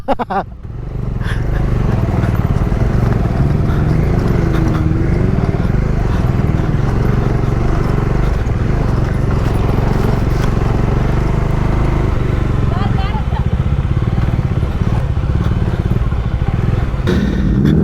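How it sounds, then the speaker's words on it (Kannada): A superbike ridden off-road gives a loud, continuous engine drone that holds steady and close for the whole stretch after a brief start. "ಏನಮ್ಮ ಸೂಪರ್ ಬೈಕ್ನಲ್ಲಿ ಆಫ್ ರೋಡ್ ಮಾಡಿಸ್ಬಿಟ್ಟೆ ಇವತ್ತು"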